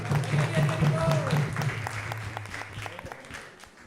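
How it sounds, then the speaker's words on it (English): An audience at a Govardhana Puja celebration breaking into applause, a dense wash of clapping that fades over a few seconds, with voices and a tonal sound running underneath at the start. "Let's give them a big round of applause."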